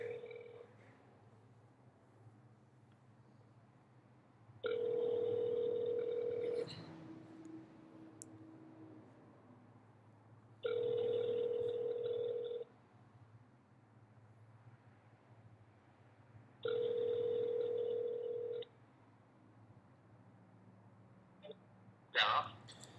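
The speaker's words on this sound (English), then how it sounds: "we're just going to give this guy a call" Outgoing phone call ringback tone: three long electronic rings, evenly spaced about six seconds apart, sounding clear and steady over a faint low background hum, with no talking between them.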